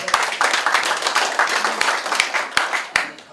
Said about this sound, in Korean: 먼저 박수로.